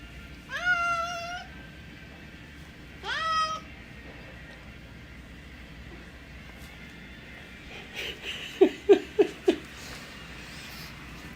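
Cat named Coda meowing indoors, with two drawn-out, clear meows a couple of seconds apart, then a quick run of four short chirping mews, each fairly close and fairly quiet against a soft room hush.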